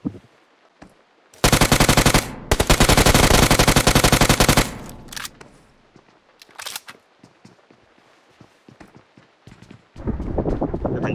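Loud bursts of automatic gunfire in the video game PUBG, a long sustained volley, then a short pause and another burst, followed by scattered single shots and a softer rattle at the end, with no talk.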